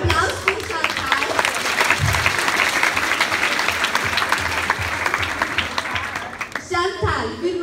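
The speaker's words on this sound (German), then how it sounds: "Applaus für Chantal" An audience applauds the stage assistant Chantal at a live show, with thick, continuous clapping that rises quickly and tapers near the end as a voice comes back in.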